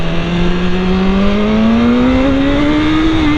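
A 2018 BMW S1000RR sport motorcycle revs up close by, its pitch climbing steadily as it accelerates hard in first gear, loud and continuous.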